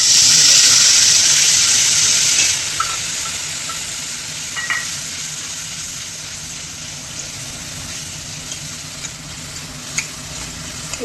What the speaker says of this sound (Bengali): এখন আমি মশলাটা বেটে রেখেছিলাম, সেটা আমি এখন দিচ্ছি।